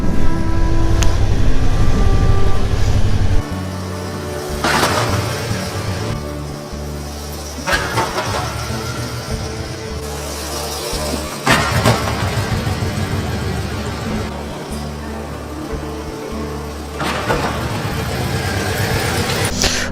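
A Yamaha motorcycle engine with a low battery runs at a loud, close idle, then drops and sputters back in several cycles of cranking and restarting over about twenty seconds.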